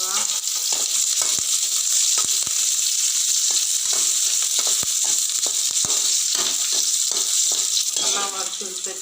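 Green chillies fry with curry leaves, garlic and tamarind in a pan, a dense steady sizzle up close with occasional taps and scrapes of stirring throughout.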